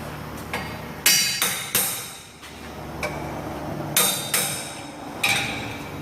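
Loud, ringing hammer strikes on metal, landing in irregular pairs and singles with short gaps, close by and otherwise quiet.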